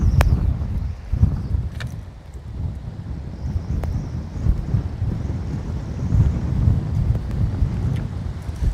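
Steady wind rumbles and buffets on an open lake from a boat during bass fishing, with the low roar of gusts and faint water lapping continuing throughout.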